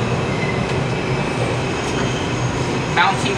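A New York City subway train rumbles steadily nearby as it pulls out of the station, with a continuous broad roar, a faint squeal, and a brief higher screech near the end.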